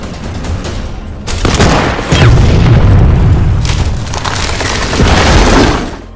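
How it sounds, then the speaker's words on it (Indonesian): In a Soviet-German war film battle, a mortar is struck by a sniper shot and explodes in loud, heavy booms. Crackling bursts like gunfire roll on between the blasts. "Igora pun menggunakan senapan Scud untuk menembak mortir tepat sebelum pasukan tank Jerman berhasil melewatinya"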